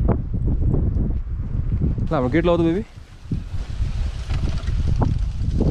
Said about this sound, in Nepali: हावा लगाइरहेछ गाइस, हावा लाग्यो भने चाहिँ अलिक चिसो रहेछ